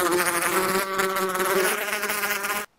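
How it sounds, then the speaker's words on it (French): Bee buzzing steadily in Minecraft for nearly three seconds, a close, continuous droning hum with wavering pitch that cuts off abruptly at the end. "Une abeille. Une magnifique abeille."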